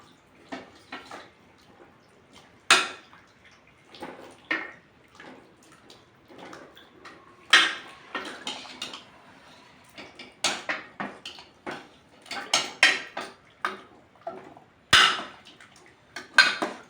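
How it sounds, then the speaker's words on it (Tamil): Vegetables simmering in rice-washing water are stirred in a cooking pot, with sparse close-up scrapes, clinks and taps of a utensil against the pot at an irregular pace, fairly quiet between strokes. "இப்போ கிண்டிக்கலாம்."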